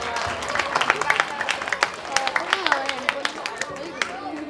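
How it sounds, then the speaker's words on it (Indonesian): Brisk clapping from a crowd of school students at an anti-bullying seminar, many overlapping hand claps with excited voices and chatter mixed in, close and lively throughout. "Tepuk tangan untuk sekolah tidak bawa handphone."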